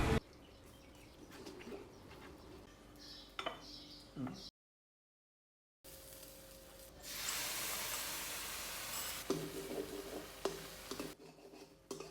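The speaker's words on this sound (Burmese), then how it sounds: "ပြီးသွားရင်တော့ကြောက်စုပုတ်ကြော်ပါမယ်" Leaves and chicken egg frying in a pan in a home kitchen. After a brief pause, a steady close sizzling hiss starts and keeps going, with occasional clinks from the pan.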